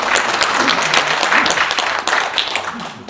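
Audience applause at a Korean independence declaration anniversary ceremony, a steady, dense crowd clapping throughout at moderate loudness.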